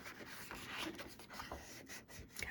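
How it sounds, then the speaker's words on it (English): A tool burnishing paper edges down onto a jewelry box, giving soft, faint, repeated rubbing strokes close by with no voices. "I'm just going to around the edges and kind of burnish the edges a little bit just so I know everything's getting stuck down"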